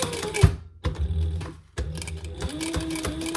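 A sewing machine top stitches a crossbody bag pocket piece in a close, steady mechanical whir, running in two bursts split by a short pause and restart.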